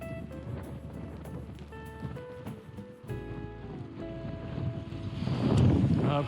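Strong wind buffets the microphone while cycling a 200 km Audax brevet around the Schlei in cold, driving horizontal rain, a steady roar that swells louder near the end.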